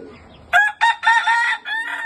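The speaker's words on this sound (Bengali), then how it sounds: "এই যে মোরগ।" A rooster on a native-chicken farm crows loudly and close by, one drawn-out call broken into several bursts, with little else around it.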